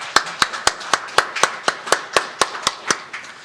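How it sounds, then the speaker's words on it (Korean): Church congregation at a Wednesday worship service clapping in unison, about a dozen sharp, evenly spaced claps in a steady rhythm with no talking. "은혜 베풀으신 우리 하나님께 영광의 박수"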